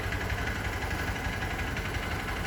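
A motorcycle engine runs steadily during a rev and noise inspection test, a close, continuous buzzing drone with a dense, even texture and no clear change in pitch.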